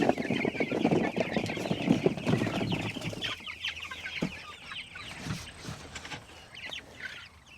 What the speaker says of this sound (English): There it is, our last batch of Cornish cross chickens out on pasture.